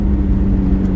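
A modified Lamborghini Aventador Novitec Torado accelerates hard, its engine producing a loud, steady close-up roar with a dense low rumble throughout the brief burst.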